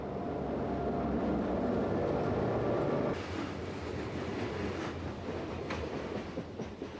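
A Maryland Midland freight train passes through the residential district of Union Bridge on its way to the cement works, a steady rumbling roll with faint clatter that eases slightly partway through.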